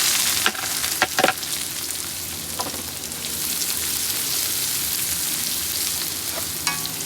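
Onions sauté in a frying pan alongside browning tomatoes, giving a continuous, close sizzle with a few sharp clanks and scrapes of a utensil against the pan.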